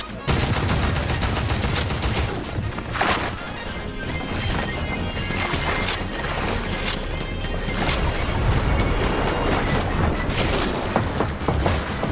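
A video game firefight plays with dense, continuous gunfire, sharp repeated shots and loud bursts packed close together over a constant busy background for the whole stretch, without talk.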